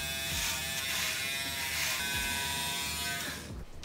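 Electric trimmer buzzing steadily while trimming a beard, a close, loud, continuous whine with slight changes in tone as it moves, then cutting off at the end.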